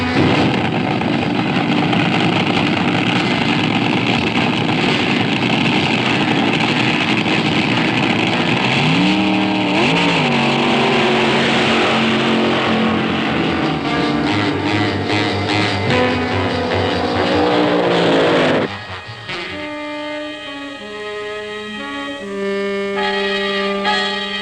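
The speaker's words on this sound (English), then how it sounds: "Cars run down the drag strip every 28 to 34 seconds." Drag racing cars roar down a drag strip, a loud sustained engine blare with climbing revs for about nineteen seconds that then drops abruptly to a lower, uneven idling engine note.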